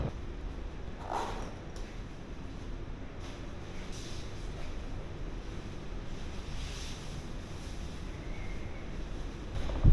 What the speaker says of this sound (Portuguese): Mar com água bem suja, vento nordeste forte